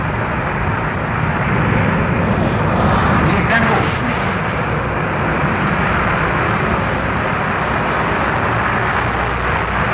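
A prototype jet airliner takes off at full power with reheat, a loud, sustained broadband roar that swells and holds steady throughout, close and overwhelming.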